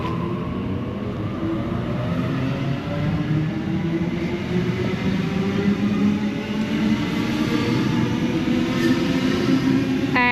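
A Sydney A18 train pulls away from platform 2 at Summer Hill station, its low rumble and rising motor whine steady and close, with wheel and rail noise building and a faint squeal near the end.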